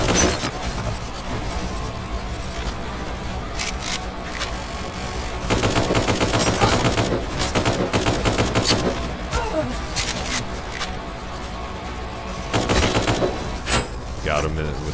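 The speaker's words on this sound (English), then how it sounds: "Got him with the headshot." Rapid gunfire bursts in a spooky video game, clusters of sharp cracking shots with quieter gaps between them, a voice talking over parts of it.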